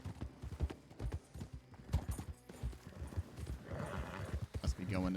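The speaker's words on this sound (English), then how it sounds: "I love the sound of hooves. The horses running." Hooves of several horses running, a rapid uneven clip-clop that rises and falls close by, with a faint whinny near the end and a voice talking over it.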